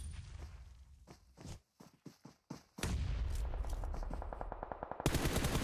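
PUBG Mobile gunfire during a Middle East and Africa esports championship match: scattered single shots with gaps, then a sustained rapid burst of automatic fire, ending louder.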